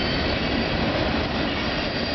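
A CN freight train of boxcars and tank cars out of Chicago rolls steadily past nearby, with a continuous loud rumble of wheels on rails and no voices.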